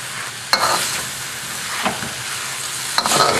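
Wedge-cut onions being stir-fried with eel in a wok, producing a steady close sizzle broken by a few sharp metallic scrapes and clanks of the spatula, with no speech.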